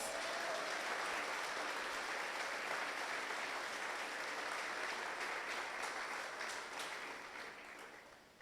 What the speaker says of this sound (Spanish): Dele un aplauso fuerte a Dios